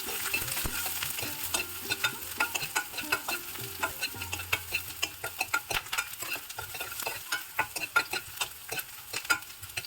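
Ginger is stirred into hot oil with chili flakes and curry leaves in a pan for Onam pickle, giving a steady sizzle punctuated by frequent scraping, clinking strokes of the spoon throughout.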